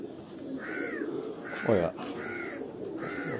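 Khaki Kamgar pigeon on a rooftop loft, low cooing in the background beneath repeated calls of other birds, with a man's brief exclamation partway through.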